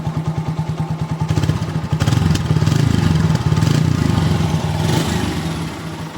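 A motorcycle engine idles close by with a fast, even putter, its tone rising slightly and steadying as the revs lift a little.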